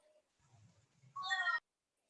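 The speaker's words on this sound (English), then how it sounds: "You know this is a cat." A cat gives a single short, clear meow near the end, preceded by faint low murmuring in an otherwise quiet room.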